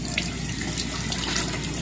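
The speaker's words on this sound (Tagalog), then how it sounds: "So, ngayon, dadagdagan ko ng tubig." Water pours steadily into a DIY overflow siphon setup, a loud, continuous rushing and splashing stream close by with no talk.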